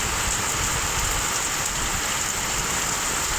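Heavy monsoon rain pouring down steadily during a cloudburst, a dense constant hiss with no letup and no voices.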